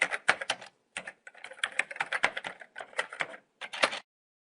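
Keys clack on a computer keyboard as an account number is entered, in quick close bursts of keystrokes separated by short pauses, ending in silence.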